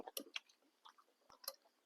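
Chewing crunchy stewed beef with fresh noodles, heard as soft, close crunches and mouth clicks in short irregular bursts, quiet with no talk.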